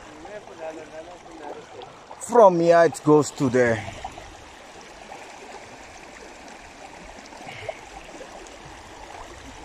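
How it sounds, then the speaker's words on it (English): A jungle stream runs beneath a footbridge, a soft steady gurgling wash heard throughout, briefly covered by someone speaking near the start. "The water running."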